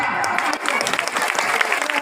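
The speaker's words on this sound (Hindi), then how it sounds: "तालियां" An audience claps briskly at a village ceremony where a minister lays the foundation stone for rural water supply schemes: dense, continuous applause, loud and close, filling the whole short stretch.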